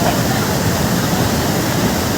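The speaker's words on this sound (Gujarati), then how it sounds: "હાથ નાખ્યો તો હાથે કાપી નાખે એટલું તો તેજ પાણી જાય છે" Loud, steady roar of fast water rushing close by as Rangholā Dam overflows in Gujarat, a dense unbroken wash of noise with no pauses.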